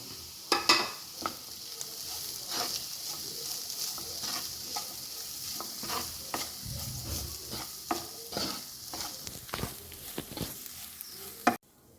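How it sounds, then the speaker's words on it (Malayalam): A spoon stirs and scrapes through a thick squid momo filling in a pan, with soft sizzling underneath and a few sharper clinks of utensil against metal. "ഇത് ഇതിലോട്ട് മിക്സ് ചെയ്യാം."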